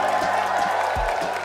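Large crowd at an esports grand final in the MGM Music Hall, Boston, cheering and applauding steadily throughout, a dense continuous roar of clapping and shouting.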